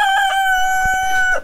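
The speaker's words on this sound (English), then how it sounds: "We got 12 hens, 14 chickens." A rooster among backyard hens crows loudly and close, a single sustained cock-a-doodle-doo call lasting about a second and a half, with faint clucking underneath.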